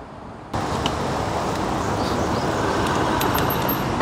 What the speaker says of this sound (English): When riding at the same speed for a few seconds, the bike will automatically get into the cruise control mode.